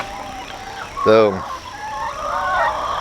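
A chicken gives a single loud, close squawking cluck in a backyard rooster garden where ducks and chickens are kept, with a voice briefly speaking before it and outdoor ambience continuing afterward.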